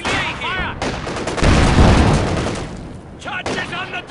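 Gunfire and explosions rage on a World War II battlefield in a Company of Heroes 2 Soviet campaign mission, a heavy booming blast in the middle, with game voice lines crackling over the fighting at the start and the end.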